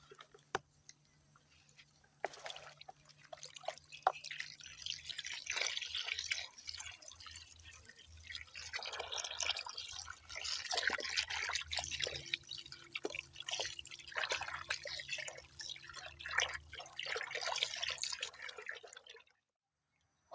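Water running and dripping while fish is washed in a rural Thai home, a steady trickling splash with scattered drips, close and moderately loud, continuing for most of the stretch before stopping abruptly.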